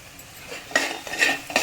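A spoon scrapes and clinks against a metal pan in three short strokes, stirring a mixture of ground green chickpeas, with quiet pauses between.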